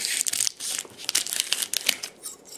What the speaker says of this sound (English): I usually just take and cut across the bottom here